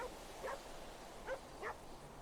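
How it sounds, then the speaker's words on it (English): A dog in GTA V barks three times, short yelps spaced apart, faint and somewhat distant over a quiet steady background. "And then there's this dog. He just keeps barking."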